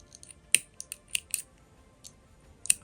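Scissors snipping through old lace for a sewing project: a handful of crisp, close metallic snips, uneven in rhythm with short pauses, one sharp cut standing out, in a quiet room with no talking.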